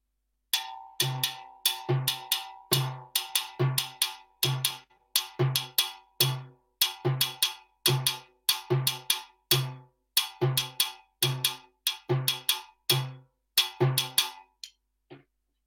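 A Latin percussion groove: a low bass drum thump, played with the left hand, falls on the upbeats between the main beats, repeating in a steady pattern alongside crisp higher hits, clear and close.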